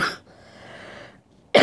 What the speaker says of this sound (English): please mind me if I'm coughing a lot